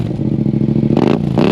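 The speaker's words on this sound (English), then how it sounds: "I love the way that this bike sounds, especially with the Two Brothers exhaust I have on there" A Honda Rebel 1100 parallel-twin motorcycle engine with a Two Brothers aftermarket exhaust runs loud and close, a steady throbbing idle that swells into two quick revs.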